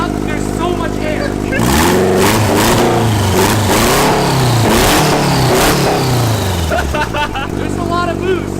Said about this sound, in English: when the turbos spin up, there's so much air